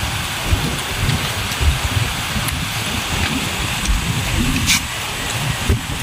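Steady rain pours down outdoors in a continuous, even hiss with soft patters, close and fairly loud throughout, with no voices.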